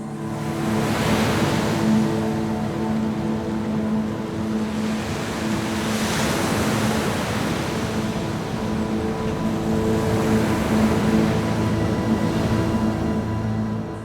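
Big ocean swells surge around a fishing boat offshore, a constant broad wash of water with slow swelling rushes, mixed with a low steady engine hum, loud and continuous with no voices.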